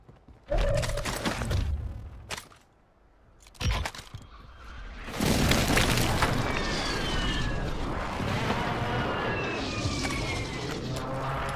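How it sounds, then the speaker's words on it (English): Precision airstrike in Call of Duty Warzone: a sequence of loud booming explosions with rumbling debris that rolls on continuously after a couple of earlier sharp blasts, heavy and close, with game sounds around it. "Friendly precision airstrike inbound."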